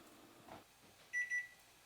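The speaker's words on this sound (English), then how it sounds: "Okay, there's the timer." A kitchen oven timer goes off with two short, high beeps in quick succession, faint against a quiet room.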